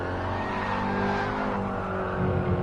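A race car in a racing video game spinning out after a bump, its engine droning loudly and steadily with a rising roar near the end, no voices over it.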